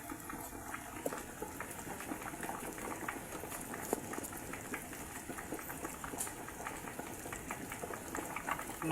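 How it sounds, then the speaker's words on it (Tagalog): A pot of coconut milk bubbles and simmers steadily, a constant close-up boiling hiss with soft popping bubbles throughout, while cooking tilapia in coconut milk. "Kumukulo."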